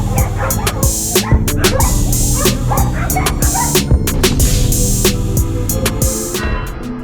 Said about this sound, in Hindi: ज़रा इन कुत्तों को देखें जो एक खिलौने को देखकर ऐसे भौंक रहे हैं जैसे इनके लिए बहुत बड़ा खतरा हो